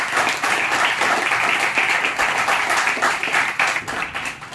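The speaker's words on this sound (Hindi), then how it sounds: "आप लोग अपने लिए जोरदार तालियां बजाएं।" Loud, dense applause from a lecture audience at a literature talk, continuous clapping filling the whole stretch with slight swells and a small dip near the end.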